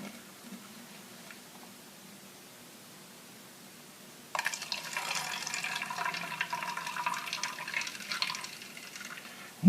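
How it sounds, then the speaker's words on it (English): Oil poured into a jar: after a quiet stretch, a close, steady liquid trickle starts suddenly and continues as the jar fills, with no talk. "he said I should pour it again, so I got another jar"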